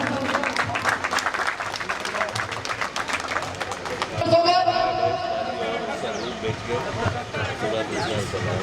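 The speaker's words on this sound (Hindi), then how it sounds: "हम लोग एक और जोरदार ताली से उन सभी का स्वागत करें इस कार्यक्रम में" Loud applause from an audience welcoming guests at a public event, steady dense clapping with crowd murmur throughout, under a voice speaking over it.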